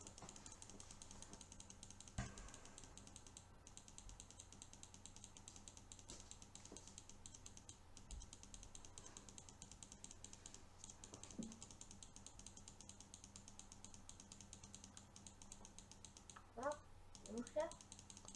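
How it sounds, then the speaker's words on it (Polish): A computer mouse and keyboard clicking faintly and steadily in the background, with a few louder clicks near the end and speech present. "Ty słyszysz tą klikającą myszkę?"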